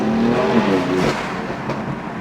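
Supercars at a car cruise rev their engines in a continuous, loud mixed roar, with overlapping engine pulls and rising revs nearby.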